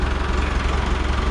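An antique IMT 650 4x4 tractor engine runs in a steady, close, low rumbling chug with even knocking pulses, heard alone.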